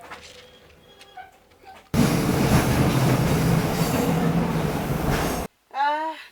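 A long-distance train on the Johannesburg to Victoria Falls route rumbles steadily along its rails for several seconds, a loud, dense rolling roar that cuts in abruptly after quieter ambient sound and stops just as suddenly.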